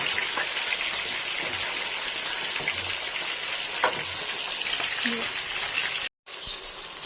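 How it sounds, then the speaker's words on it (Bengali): Onions frying in oil left from frying chicken in a pan, giving a steady, dense, close sizzle that crackles like rain and drops out briefly near the end. "এই তেলে একবার চিকেন ভেজে নিয়ে পেঁয়াজগুলো দিয়ে দেবো।"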